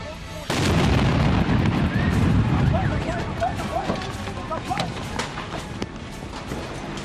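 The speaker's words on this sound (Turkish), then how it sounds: "istasyonu gaz dolumu yapılırken bomba gibi patladı" A sudden, powerful blast erupts after a brief quiet moment as an LPG gas station explodes during gas filling, followed by a sustained roar and crackling rumble of fire, with scattered voices shouting in the background.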